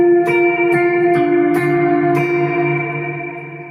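Electric guitar through an Mvave Tank G multi-effects pedal on a shimmer reverb cloud setting, giving a few sustained chords that bloom into a bright, church-like wash of reverb and fade slowly, heard alone with no talk.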